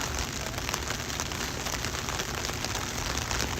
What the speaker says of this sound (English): the rain is getting heavier